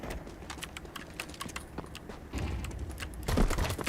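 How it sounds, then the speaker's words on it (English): Computer keyboard typing picked up by a microphone set close to it: rapid, irregular clicks of keys over a low rumble, growing louder and denser toward the end. "The sound on the keyboard might be a bit too loud."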